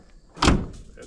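A 75-year-old 1948 Pontiac car door swings shut with a single close, fairly loud thud midway, then quiet. The latch catches smoothly and softly.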